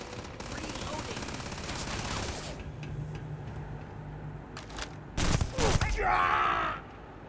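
Rapid gunfire from a firefight in the video game Starfield rattles in dense bursts, mixed with shouting voices and groans, and ends in a few sharp, loud close shots near the end.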